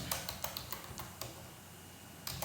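Soft, sparse keystrokes on a computer keyboard click at an irregular pace, a few quick taps then a pause and a final pair, faint and close with no voices.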